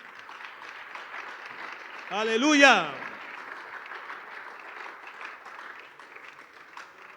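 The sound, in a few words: congregation applause in church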